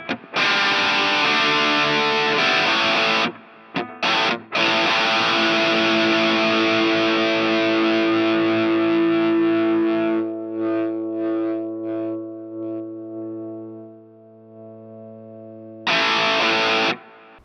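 A distorted electric guitar runs through a multi-effects pedalboard with the noise gate off. Loud chords ring and slowly decay into a lingering hum and hiss, then another strummed burst cuts in near the end.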